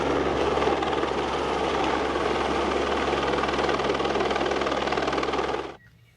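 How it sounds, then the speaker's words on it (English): A helicopter roars steadily overhead, a loud rotor-driven rumble that holds for several seconds, then cuts away abruptly. "Bit of an early start with a helicopter coming over"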